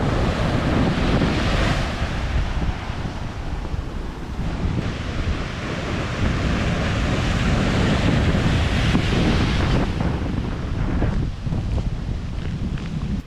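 Rough, swollen sea surf surges over a coastal road in a continuous close roar of churning water, with wind buffeting the microphone throughout and no voices.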